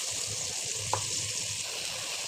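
Spice paste with salt, sugar and a little water sizzles steadily in a pan while cooking down for chicken roast, a constant soft frying hiss with one brief clink partway through.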